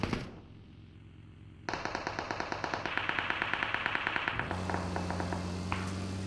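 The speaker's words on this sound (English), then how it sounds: "getting shot from across the way" Rapid automatic gunfire from PUBG Mobile, a long run of evenly spaced shots in a quick steady rhythm with a louder burst partway through, over a low game hum and no talk.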